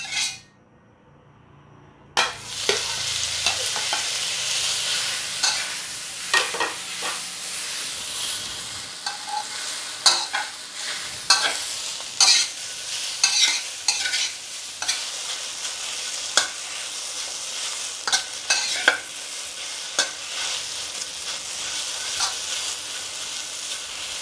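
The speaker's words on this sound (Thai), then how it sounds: "เราจะมาผัดเส้นก่อนค่ะ เส้นก๋วยเตี๋ยวที่เรามีนี่นะคะ ก็จะมี น้ำมันอยู่บ้างแล้วนะคะ" Rice noodles stir-fry in a little oil, a bright, constant sizzle close by with frequent scraping and tapping of the spatula against the wok after a brief quiet start.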